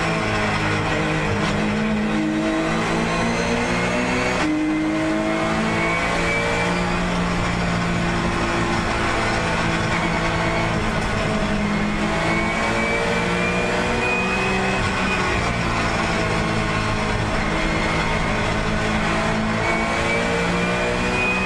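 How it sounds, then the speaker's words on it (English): Porsche and Nissan GT-R race car engines roar continuously at close range at Mount Panorama, Bathurst, revving up and down through gear changes as the two cars battle, with no talking. "have a listen to the Porsche as it dices with the Nissan GTR"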